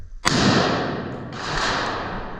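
A single sharp, loud rifle shot cracks early on, followed by a long noisy rumble and a softer second swell of noise, with no talking.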